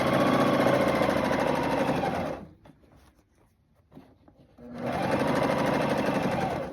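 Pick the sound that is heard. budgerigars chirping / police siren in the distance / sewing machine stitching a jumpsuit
sewing machine stitching a jumpsuit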